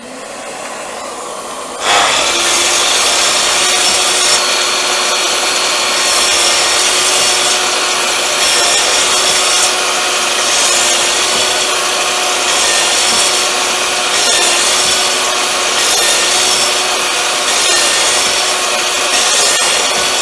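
A Festool miter saw runs loud and steady for about eighteen seconds while cutting a half-lap joint in wood, its blade whine sustained with slight fluctuations, starting abruptly after a brief quieter moment.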